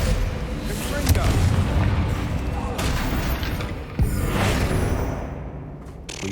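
Confringo blasting spell in Hogwarts Legacy: loud booming explosions in a dense barrage of game combat effects, with a sharp impact near four seconds and spoken spell names over the chaos.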